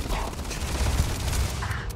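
Gunfire in the Starfield video game crackles as a rapid fusillade of mechanical shots and clatter, dense and steady over a rumbling game soundscape.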